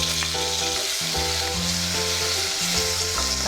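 Tomatoes fry in a pan for egg kurma with a loud, continuous sizzle and occasional stirring, close up and with no voices.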